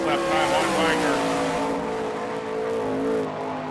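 Mike Wagner's number 55 sprint car howls around the Hartford, Ohio dirt oval on a qualifying lap, loud sustained engine revving that swells and dips through the turns, with a faint voice underneath.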